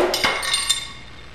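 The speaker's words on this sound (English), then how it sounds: "I tap on it with a hammer." A hammer taps on the case of a Jeep SRT T850 manual transmission, giving a few bright metallic clinks in quick succession that ring briefly and fade, close and fairly loud.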